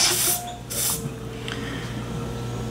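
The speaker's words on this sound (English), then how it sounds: "My valve's a little leaky, which is why that was spraying out" R134A refrigerant can spraying from a leaky valve during an RC submarine build: a loud hissing burst, a brief pause, then a second burst, trailing into a quieter ongoing hiss.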